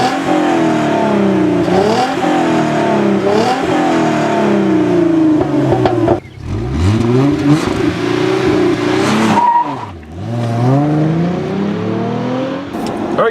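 A 348-horsepower 3.8-liter V6 with a close-ratio six-speed manual revs loudly and pulls hard, its pitch rising through the gears with a brief drop at a shift and a second dip before climbing again, close and dominant.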